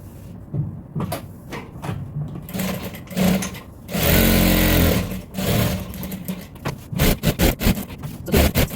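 A sewing machine stitches a pocket onto an apron with short stop-start bursts, one sustained louder run in the middle, and scraping and handling noises between the bursts.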